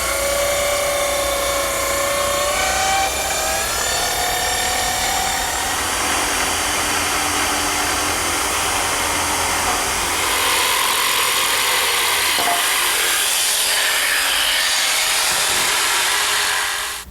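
Saw cutting along the edge of a chestnut board for a desk, a steady loud whining run that holds for the full stretch without pause and with no talk over it.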